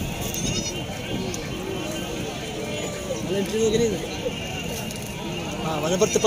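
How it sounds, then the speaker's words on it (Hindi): Pateri goats bleat at a bakra mandi livestock market in Tando Adam, with a few distinct calls rising through steady crowd chatter and nearby talking. "इस तरफ भी कुछ पटेरी बकरियां खड़ी हुई हैं"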